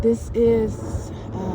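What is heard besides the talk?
No everyday noises stand out.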